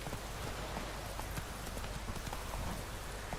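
Roach the horse clip-clops along in The Witcher 3, soft hoofbeats half buried under a dense hiss of rain and wind that fills the whole scene.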